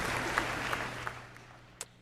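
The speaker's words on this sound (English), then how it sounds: "She deserves applause for 32 years." Audience applause at a bachelor's degree graduation ceremony, a faint, steady patter of clapping from a hall crowd with a few sharper claps standing out.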